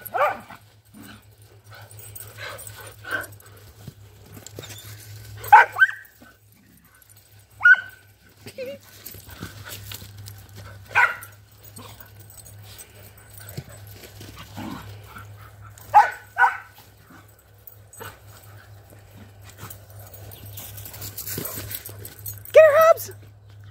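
A dog gives a few short, scattered yips and barks among quieter whimpers, with a steady low hum underneath and occasional voices.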